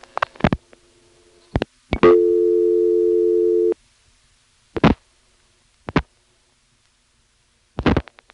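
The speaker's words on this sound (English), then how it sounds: "you'll hear one of those Type 2 carrier trunks coming on" Telephone carrier trunk tones on a 1976 call into Bridgewater, Virginia via a callback circuit: a sustained two-second buzzing tone amid scattered clicks and short bursts, then quiet with sparse clicks.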